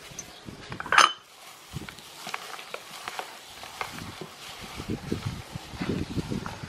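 Kofta ingredients are mixed by hand in a bowl, with one sharp clink against the bowl early on, followed by soft, irregular squelching and tapping sounds close by and no talk.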